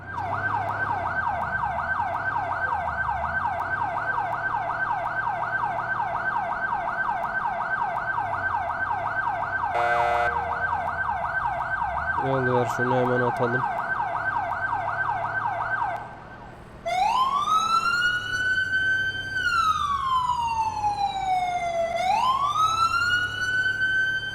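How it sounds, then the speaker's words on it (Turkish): An ambulance siren in the Notruf 112 emergency video game blares loud and continuous, first as a fast two-tone warble, then switching after a brief break to a slow rising and falling wail. "Sirenler çalışma mantığı biraz değişik."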